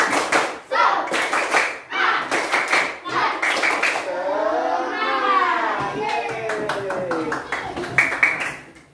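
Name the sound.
class doing 'tepuk semangat' spirit clapping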